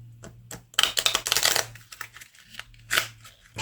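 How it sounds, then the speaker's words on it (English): A small Maxfield Parrish deck of playing cards being shuffled by hand, close crisp bursts of riffling and flicking card edges in uneven clusters with short pauses between. "So I'll go ahead and give it a little shuffle here."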